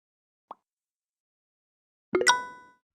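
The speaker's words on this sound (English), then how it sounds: "Place the beef bone in the stock pot." A beef bone plops into a stock pot in a cooking video game. After a faint click there is a short pause, then a single crisp plop followed by a bright ringing chime that fades out.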